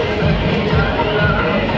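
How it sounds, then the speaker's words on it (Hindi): Dense crowd babble at a busy food area, a steady loud wash of many overlapping voices with no single speaker standing out. "देखो भीड़ कितनी हो रही है।"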